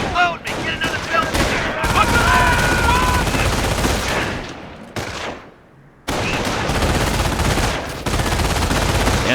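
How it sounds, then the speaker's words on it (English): Loud, rapid rifle and machine-gun fire crackles in the World War II strategy game Company of Heroes, sustained volleys broken by a brief near-silent gap before the shooting resumes. "Taking rifle fire!"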